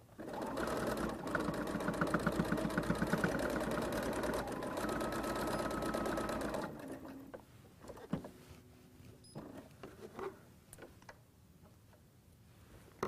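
Sewing machine stitching a fabric bag, a fast steady mechanical chatter running for several seconds close by, then stopping, followed by quiet handling clicks and rustles.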